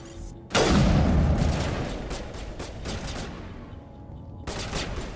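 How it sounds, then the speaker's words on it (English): Gunfire in the sci-fi shooter Mass Effect Legendary Edition, set in space: a loud burst of rapid shots breaks in after a brief quiet, then keeps rattling in a dense fusillade before easing, with a fresh volley at the end. "What are you guys shooting at?"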